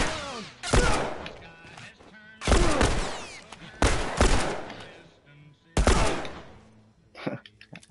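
Gunfire in The Last of Us Remastered, set in Bill's Town: four loud, close bursts of shots, each followed by a ringing decay and short quiet gaps, with a last smaller scatter of sounds at the end.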